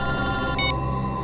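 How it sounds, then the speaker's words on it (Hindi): A telephone rings with a bright electronic trill, one short burst over a steady background tone. "एसीपी साहब का फोन।"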